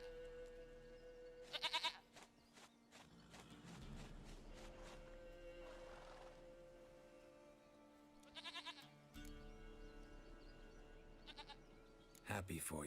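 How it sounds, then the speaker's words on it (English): Goat in The Witcher 3 bleating in a few brief bursts, scattered among ambient game sounds and low music, with speech occurring in between. "sweetest goat."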